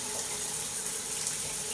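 Steady hissing spray of water running from a shower head in a custom bathroom, continuous and even, with no voices.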